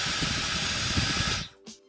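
A hair styler fan on medium speed blows with a loud, steady airy hiss, then cuts off abruptly near the end, followed by a brief click.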